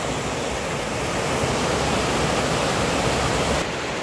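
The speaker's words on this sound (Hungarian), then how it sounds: "Elég komoly kis patak ez" Rushing mountain stream pouring past a washed-out wood-and-concrete dam in a remote Carpathian valley, a loud steady broadband roar of water, close and unbroken, with no voices.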